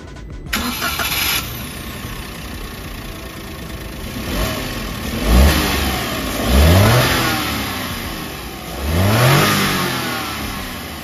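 A Daihatsu Sigra with the 1000cc three-cylinder engine cranks and starts, settles to idle, then revs up loudly three times in rising swells, close by with no talking.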